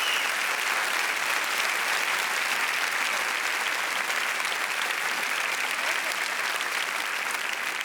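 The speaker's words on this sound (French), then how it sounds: "je voudrais qu'on l'applaudisse très très fort." An audience at a Big Perf Cannes stage show in Cannes claps loudly and steadily, dense sustained applause filling the hall without a break.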